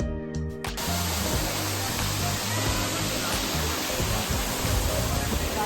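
Rautwadi waterfall, a small fall during light rain, roaring as a dense, steady broadband wash of falling water close by, opening briefly over a voice before the rush takes over.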